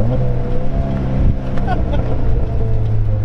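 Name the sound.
2008 Pontiac Solstice exhaust pops on downshift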